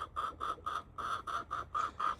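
An older laying hen clucks in a quick, even series of about ten short calls, close and clear against a quiet background.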